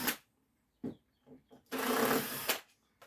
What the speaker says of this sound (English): The first thing I am going to do is just remove these temporary screws.